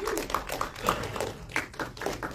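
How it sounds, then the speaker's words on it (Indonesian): Friends and press at a Jakarta film press conference break into short, scattered hand clapping, close and fairly loud, with a little room noise mixed in. "Tepuk tangan dong teman-teman."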